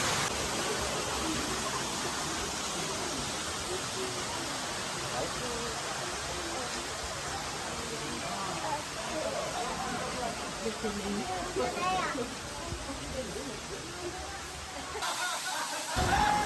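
A Bali waterfall roars as a constant, moderately quiet broadband rush throughout, steady and unbroken, with faint background chatter of people nearby.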